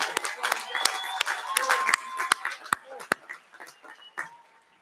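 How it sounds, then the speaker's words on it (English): Scattered clapping at a high school graduation ceremony honors the Crimson Express, sharp individual claps over a murmuring crowd with some voices, thinning out toward the end. "How about a round of applause for the Crimson Express?"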